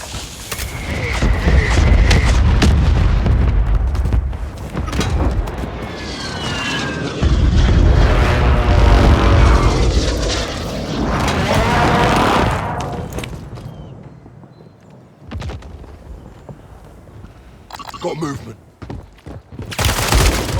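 Gunfire and explosions in the video game Warzone 3 at Fortune's Keep: loud bursts of automatic fire, booming blasts and a droning aircraft engine overhead, close and relentless, with game voice lines breaking in.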